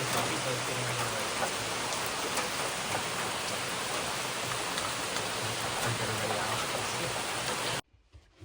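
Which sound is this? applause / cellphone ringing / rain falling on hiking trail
rain falling on hiking trail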